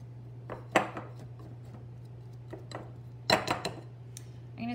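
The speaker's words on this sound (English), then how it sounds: "I'm going to scrape off all of this excess stuff from my pastry blender so it's easier to wash." Excess biscuit dough scraped off a metal pastry blender in a bowl, giving scattered light metallic clinks and scrapes, a few sharper taps near the end, close and moderately quiet.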